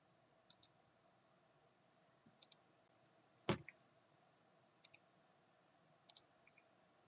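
Quiet computer mouse clicks, about six soft paired clicks spaced over several seconds with one louder sharp click in the middle, close and otherwise near-silent.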